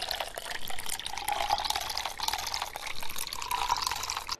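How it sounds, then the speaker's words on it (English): Water poured steadily into an ice cube tray in a VR video game, a continuous splashing trickle lasting several seconds with no talking. "now I will directly pour it into the ice cube tray"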